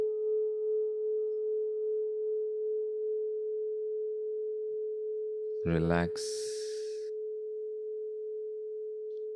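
A meditation bowl rings with a pure, steady tone that sustains evenly from start to finish, while a calm voice briefly speaks a single word midway.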